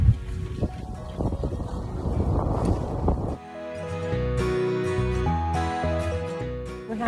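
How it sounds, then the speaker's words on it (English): A Hallberg Rassy 352 sailboat under sail, with a rush of wind and water noise buffeting the microphone for a few seconds before steady music takes over. "Okay, we are officially sailing."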